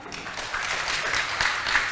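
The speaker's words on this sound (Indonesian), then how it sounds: "Sekali lagi kita berikan tepuk tangan yang meriah." Audience applause fills a seminar hall on sustainable marine governance, a steady wash of many hands clapping together, moderately loud and sustained throughout.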